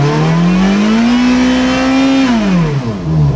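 Cold Ferrari F430 Scuderia engine running close by, a loud, buzzy note that climbs, holds, then falls away before lifting again.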